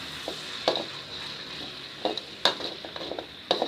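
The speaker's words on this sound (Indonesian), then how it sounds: "Kita aduk-aduk terus biar bawahnya enggak gosong ya teman-teman." Ground sambal chili paste is stirred and fried in a pan over low heat, with a steady soft sizzle broken by a few sharp scraping strokes of the spatula, close and clear with no talk.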